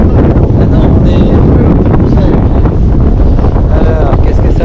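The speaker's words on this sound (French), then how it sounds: "On a toujours là 21 nœuds de vent qui vient par le travers" Strong wind, about 21 knots across the beam, roars on an Elan 444 sailing yacht off Croatia in September. A loud, constant buffeting rush fills the mic, with water and hull noise mixed in.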